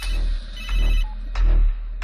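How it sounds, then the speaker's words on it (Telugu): A phone rings with a repeating electronic ringtone over a low hum, three loud pulses evenly spaced and heard alone. "ఫోన్ వస్తుంది చూడు,"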